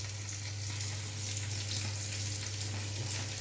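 Cutlets fry in a pan with a soft, even sizzle and a steady low hum, faint and continuous throughout.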